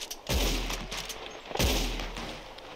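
Two booming gunshots in the video game Red Dead Redemption 2, each a sharp heavy report with a rolling tail, spaced about a second apart and loud in the foreground.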